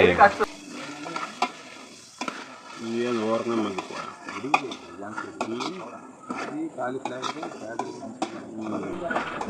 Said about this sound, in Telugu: క్యాబేజీ, టమాటాలు, ఉల్లిపాయలు అన్నీ నూనెలో బాగా వేయించుకోవాలి.